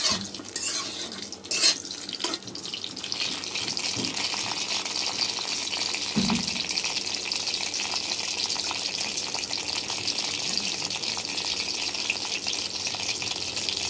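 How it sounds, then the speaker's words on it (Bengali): Pointed gourd (potol) frying in a pan, a steady close hissing sizzle with a few clanks of utensils and pan knocks near the start and middle, no voices. "এগুলো একটু লাল লাল করে ভেজে নিতে হবে।"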